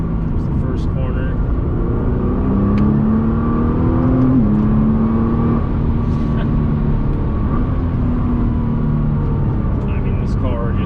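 A Nissan GT-R in R mode with R suspension accelerating hard, a steady loud engine drone with rising and shifting pitch heard from inside the car for about eleven seconds.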